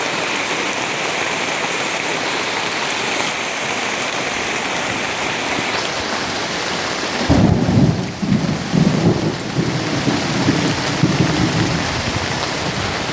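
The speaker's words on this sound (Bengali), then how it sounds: "প্রচণ্ড জোরে ঝড় এবং বৃষ্টি হচ্ছে।" A heavy storm pours rain onto streets that are flooding, a loud continuous roar of rainfall, then a deep rumbling thunderclap rolls in partway through and lingers under the downpour.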